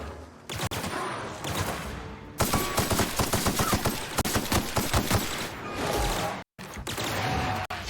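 Rapid automatic assault rifle fire from The Outer Worlds rattles out in loud, sustained bursts, with a tight string of evenly spaced shots in the middle and a brief silent gap near the end.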